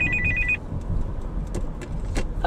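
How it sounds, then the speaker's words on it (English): A mobile phone rings briefly inside a moving car, a steady electronic tone over low road rumble that soon stops. "Oh, my phone's ringing."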